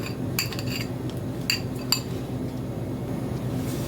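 A condensed milk glaze is stirred in a bowl, with a spoon clinking against the side several times over a steady low background hum.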